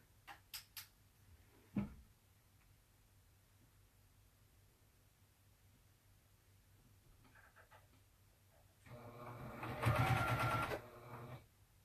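A sewing machine backstitches through thick layers of oven mitts, with a few short stitching taps at the start, then a louder burst of running stitches later on in a quiet room.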